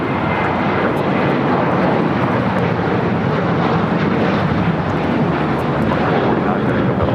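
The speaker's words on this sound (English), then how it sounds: "taking off to Las Vegas on the 737-800" Jet airliner noise at LAX, a United Airlines Boeing 737-800 taking off for Las Vegas, a loud, steady broadband roar that fills the whole stretch without a break.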